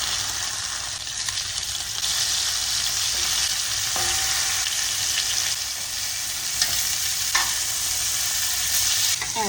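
Chicken thighs for brown stew chicken sizzle and fry in a pot, a steady loud crackling hiss throughout with occasional stirring scrapes and clinks, no talking.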